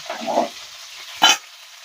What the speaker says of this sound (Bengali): তেলটা গরম হয়েছে, আগে একটু ফুলকপিটা ভেজে নিই।